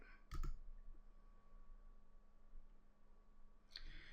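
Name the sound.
computer mouse left click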